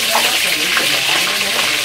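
Frogs frying in fish sauce in a pan, a steady, dense crackling sizzle that stays loud and close throughout with no break.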